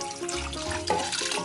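Liquid pours and splashes steadily over chicken pieces in a kitchen as marinade is added for soft-bone fried chicken, with a running, tap-like flow lasting the whole brief moment, close and moderately loud.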